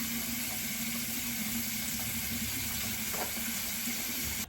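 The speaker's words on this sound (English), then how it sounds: "So I'm gonna run this water for a while." Steady rushing of near-hot tap water running, a constant hiss with no pauses, close by and moderately loud.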